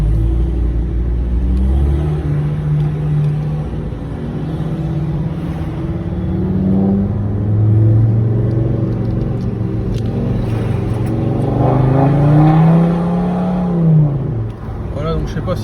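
A Volvo V50 R-Design turbo diesel with a stage 1+ tune and full Akrapovic exhaust pulls hard up a mountain road, its engine note rising and falling through gears, loud and close, with someone talking over it.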